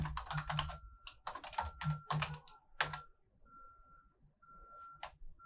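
A name typed on a computer keyboard into a directory search bar: quick bursts of close, crisp key clicks in short runs, then sparse single taps, with a steady faint electronic tone running underneath.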